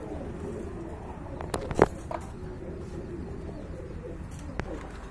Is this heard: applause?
no